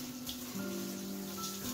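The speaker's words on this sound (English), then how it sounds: "and then washing them both in the shower." Shower water sprays over plastic computer case shells being washed, a soft steady splashing patter with faint tonal ringing, close and quiet, no talking.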